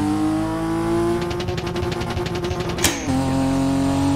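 A car in a driving video game runs flat out at top speed, a loud steady engine drone with a rising whine, a brief sharp burst near the end, then the note settles lower as it shifts gear.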